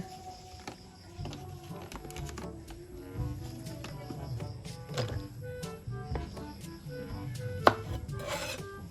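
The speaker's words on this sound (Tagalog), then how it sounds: "Sunod nating hiwain ay ang mga siling" A knife chops chili peppers on a board in a home kitchen for a grilled tuna dinner, with steady soft repeated taps and rubbing cuts close by, no talk, one sharper knock near the end.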